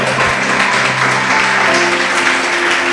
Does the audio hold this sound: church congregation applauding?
yes